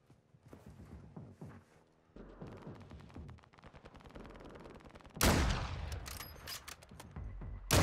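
Gunfire in Call of Duty: Modern Warfare II: repeated rapid shots building up, then a loud close burst of automatic fire near the end over a busy game soundscape.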